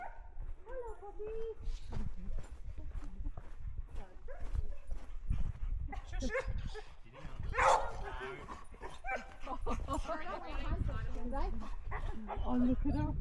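Several excited dogs on a hiking trail bark and yip repeatedly at close range while people talk over and between the barks.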